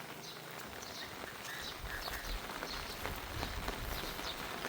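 Rain falling in rural Thailand during a day-and-night downpour over rice fields, a steady soft hiss with scattered drop patter and faint bird calls, even and unbroken, no voices.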